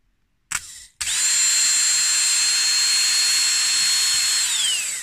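A 12-volt RS550 electric motor running on a battery gives a brief spin-up blip, then a sharp, loud, continuous high-pitched whine, close and alone, holding steady with a slight pitch sag at the end.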